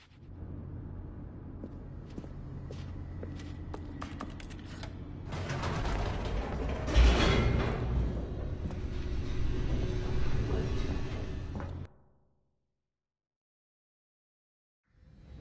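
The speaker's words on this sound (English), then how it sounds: "The elevator raced downward, plummeting towards an unknown fate." A lift descends in The Stanley Parable, a steady rumbling mechanical drone with creaks and clanks that swells midway, then cuts off abruptly into near silence before a faint return at the very end.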